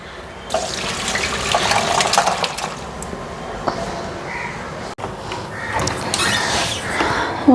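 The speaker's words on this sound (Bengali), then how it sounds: "ফুলকপিটার জল ঝরাই আনি" Water being drained from washed cauliflower, with a steady running and splashing flow close by, like a tap into a sink, continuing throughout with a short break in the middle.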